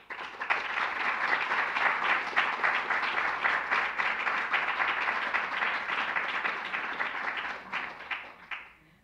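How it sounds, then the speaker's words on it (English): Sustained audience applause at a 2017-2018 MIDS graduation ceremony, a dense wash of many hands clapping steadily for about nine seconds before tapering off at the end, with no talk over it. "could we please have another huge round of applause for all the people that we have named?"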